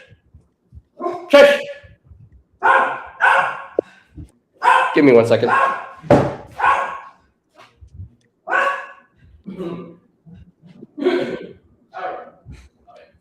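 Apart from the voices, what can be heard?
dog barking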